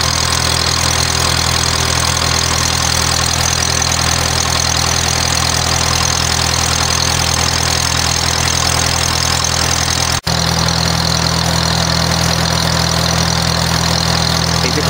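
A Kohler 1E21 emergency light plant engine runs steadily and loudly at idle with a constant mechanical drone, its choke opening as it warms.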